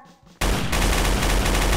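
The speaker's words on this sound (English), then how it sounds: "I'm hearing machine guns." Sustained rapid machine gun fire in a Trouble in Terrorist Town video game session, a loud dense automatic burst that breaks in abruptly after a quiet moment and continues without pause.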